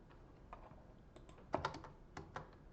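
Quick bursts of keys being struck on a computer keyboard as a shortcut is entered, a cluster of crisp clicks close to the microphone with short pauses between them.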